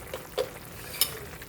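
Sinigang simmering in a pot is stirred, a soft bubbling hiss with a couple of brief utensil scrapes and clinks close by.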